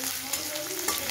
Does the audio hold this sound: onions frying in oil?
yes